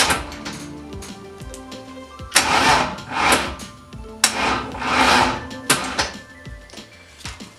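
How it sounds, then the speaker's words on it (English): A BMW E46 race car's starter cranks the engine on a low battery in a garage, with two laboured cranking bursts separated by clicks and clunks, close and fairly loud. "Battery's low, but yes, that does crank"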